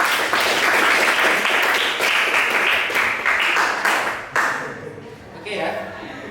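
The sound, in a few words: applause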